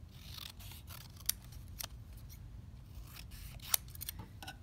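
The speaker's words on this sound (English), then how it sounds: "And then you can cut out your horn" Scissors snip through paper while cutting out a unicorn horn for an alphabet art journal, giving a few faint, sharp clicks spaced over a quiet background with low room rumble.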